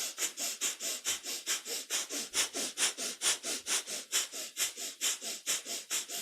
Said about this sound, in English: It's a very fast movement with a breath of fire.